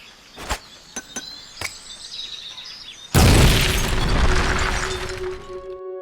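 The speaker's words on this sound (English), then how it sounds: "An explosion?" A sudden loud explosion in the video game Metal Gear Solid Peace Walker bursts in after a few sharp clicks and chimes, then a long rumbling roar fades while a steady game tone hums underneath.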